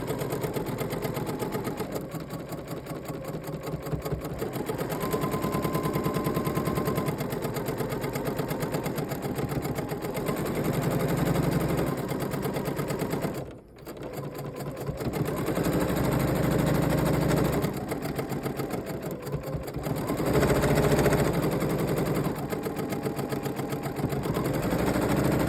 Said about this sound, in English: we're going to continue sewing